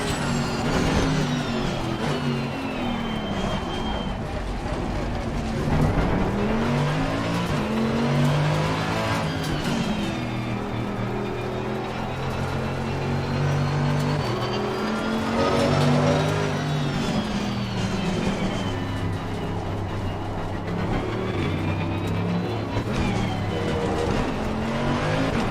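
Race car engine from Assetto Corsa Competizione held in low gears out of corners, revving hard and continuously with rising and falling pitch sweeps as it upshifts and downshifts. No voices.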